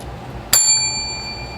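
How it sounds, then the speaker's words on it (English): A single bright notification bell ding rings out, sharp attack followed by clear ringing overtones that sustain and fade slowly over a faint background, no speech. "Hit that bell so you too can be notified next time I upload another delicious recipe."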